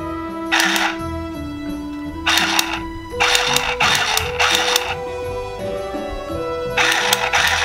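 A handheld sewing machine stitching through sequined fabric, its motor running in several loud bursts of a second or so each, separated by brief pauses, close up with no talking.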